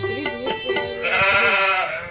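A goat bleats loudly and close by, a few quick wavering cries running into one longer drawn-out bleat, with no talking.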